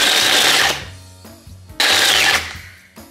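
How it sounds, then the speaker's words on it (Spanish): A mini food processor grinds a packet of Oreo cookies in two loud, close bursts of high-pitched motor whine and rattling crunch, separated by a brief pause. "en esta mini procesadora entra un paquete de galletitas Oreo"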